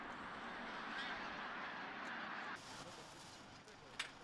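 Large flocks of migratory ducks and geese at Cheonsu Bay in winter, a dense, distant chorus of quacking and honking that stays continuous, with a few sharper calls standing out near the end.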